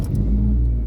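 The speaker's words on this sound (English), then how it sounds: "I will try to start the engine" A Peugeot 205 GTI 1.9 engine fresh from new ignition parts catches and settles into a loud, close, steady low rumble after a brief initial burst, no talking.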